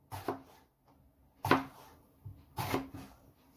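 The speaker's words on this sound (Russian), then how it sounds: "Болгарский перец нарезаю крупным кубиком." A bell pepper is chopped into large cubes in three distinct, sharp knife strikes, spaced about a second apart and close up, with quiet pauses between them.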